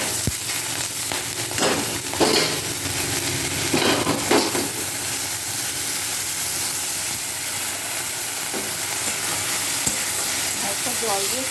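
Greens (sajna leaves) fry in a pan with a loud continuous sizzle, broken by occasional stirring scrapes nearby.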